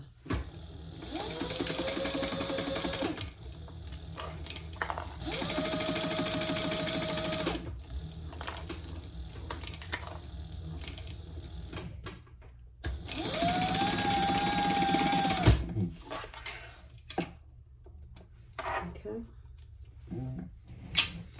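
A sewing machine stitches a phone pouch seam with green thread in three steady runs of several seconds each, with pauses between them and a person talking throughout.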